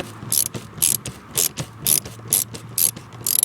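Ratchet turning a Torx bit to undo screws on a Jaguar X-Type washer bottle, a run of rapid clicking bursts repeating in a steady rhythm, close and fairly loud with no talking.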